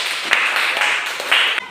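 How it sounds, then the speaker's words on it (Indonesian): Schoolchildren clapping together during a classroom lesson, a busy, continuous patter of many small hands with a few louder accented bursts, fairly close and steady before cutting off. "Kasih tepuk tangan."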